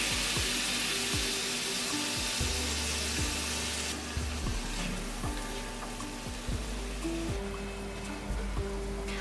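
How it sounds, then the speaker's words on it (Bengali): Cumin, coriander and chili powder spice paste with a little water fries in a pan with a steady, close hiss, while faint tonal background sound runs underneath. "সামান্য জল দিয়ে এবার মশলাগুলো ভালো করে কষিয়ে নেব"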